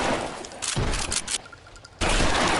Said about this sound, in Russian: они стреляют